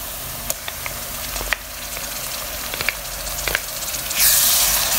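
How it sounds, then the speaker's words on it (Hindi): Crushed garlic and ginger fry with half-browned onions in a pan for aloo palak, giving a close, steady sizzle with sharp spatula clicks and a burst of louder spitting hiss near the end. "अब हम इसमें लहसुन अदरक जो कुटा हुआ है वो डाल देंगे"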